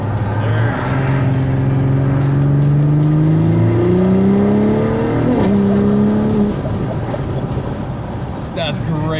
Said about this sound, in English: Hear some of this turbo noise.